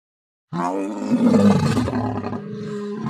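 A lion in an animated story lets out one deep, loud roar that starts abruptly and rumbles on for a few seconds, with no talking over it.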